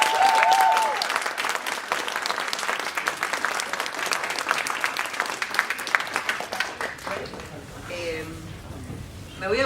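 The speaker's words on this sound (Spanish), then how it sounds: "le damos un gran aplauso de nuevo" An audience claps warmly at a poetry book presentation, a dense, sustained wash of applause that thins out and fades toward the end, with brief talk near the close.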